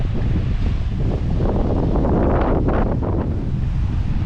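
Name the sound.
strong wind at the beach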